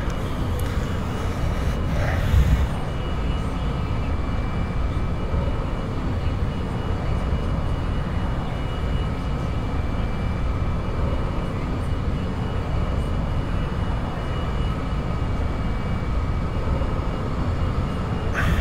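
A plane in flight in the X-Plane 11 simulator, a steady loud engine drone and rushing air holding evenly for the whole stretch with no talk.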